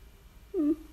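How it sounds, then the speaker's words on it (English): A cat gives one brief, close, whiny meow-like sound over quiet room noise. "Would you like to purr for the people?"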